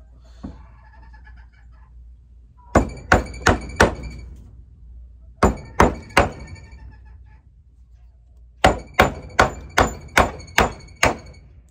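Sharp, evenly spaced hammer blows land in three bursts of several strikes each, loud and close with short pauses between groups.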